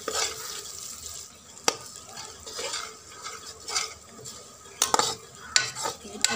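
Egg and onion fry being stirred in a pan: a spoon scrapes and clinks against the metal over a low sizzle, with a few sharp taps, fairly close and without talk.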